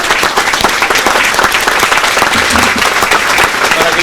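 Dense, sustained audience applause fills a political talk event in Venezuela, steady and loud clapping from a crowd throughout with no voices on top.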